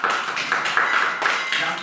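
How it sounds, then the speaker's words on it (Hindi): Hands clapping in a classroom activity with children, a steady run of claps mixed with voices over a brief stretch. "ताली दे भाई"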